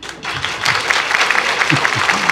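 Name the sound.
audience applause for the MC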